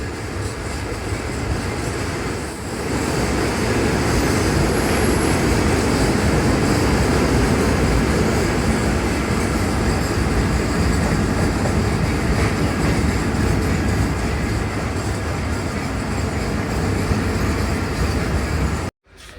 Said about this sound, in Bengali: আর আমাদের ট্রেনটি এখন মাওয়া রেল স্টেশনের 1 নম্বর প্ল্যাটফর্মে প্রবেশ করছে।